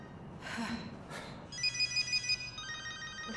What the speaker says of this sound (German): Bruce calling